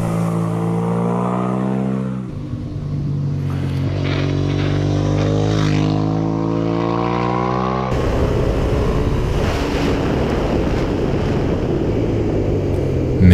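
Suzuki motorcycle engines on a mountain road bend, rising and falling in pitch as they rev past, with a loud rasping roar building toward the end.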